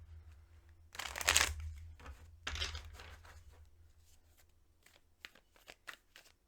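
Tarot cards riffle and shuffle in several crisp bursts, the loudest early on, followed by softer taps and flicks as the deck settles.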